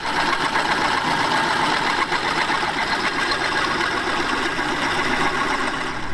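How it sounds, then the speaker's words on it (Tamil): A drill bores a hole in the centre of a steel plate, giving a continuous close grinding whir with a mechanical buzz that holds steady throughout. "இப்போ இந்த பிளேட்டில் பார்த்தீங்கன்னா சென்டராக ஒரு ஹோல்ஸ் போட்டுடலாம்."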